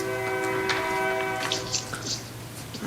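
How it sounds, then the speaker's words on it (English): A train passes near a county supervisors meeting, its horn a steady droning tone held through the whole stretch over a low rumble, with faint scattered knocks on top. "Oh, train."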